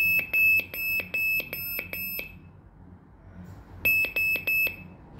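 A Fox alarms motion sensor anti-theft alarm beeps in rapid, sharp, high-pitched pulses, in two close bursts separated by a short pause.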